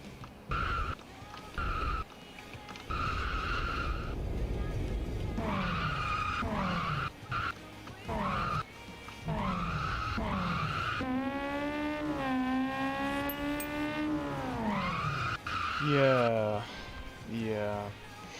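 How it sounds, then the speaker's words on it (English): Car tires skid and squeal in a driving video game, long wavering tonal screeches rising and falling across several slides, with engine noise and a voice talking over parts of it. "Still the front tires, I think, are leaving skid marks first."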